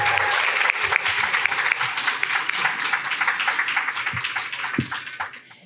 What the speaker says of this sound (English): One more round of applause for the class of 2021